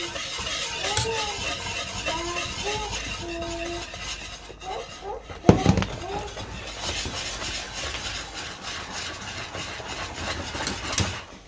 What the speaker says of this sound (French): je vais venir comme si je fais la bouillie en fait. Je fais comme ça, je vais touiller comme ça.